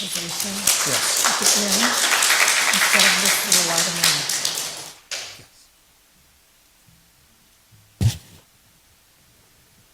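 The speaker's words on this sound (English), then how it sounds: "You got an applause there" A small audience claps at an improvisation gathering in a rush of applause mixed with voices that fades out after about five seconds, followed by near silence broken by a single sharp thump.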